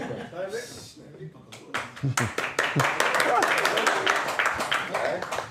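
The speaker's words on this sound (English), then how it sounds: "What are you clapping?" Hands clapping during a Talmud study class, starting with a few scattered claps and building into steady, fairly close clapping that continues to the end, with voices faintly underneath.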